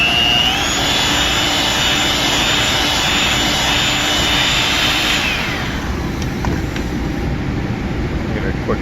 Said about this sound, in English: Whisk it a little bit more.